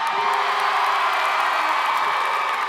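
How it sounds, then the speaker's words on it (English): A concert crowd at Radio City cheers and whoops for a band member, a steady mid-distance roar of voices and some clapping that holds evenly throughout, with no talking over it. "I was expecting a little louder cheer for that"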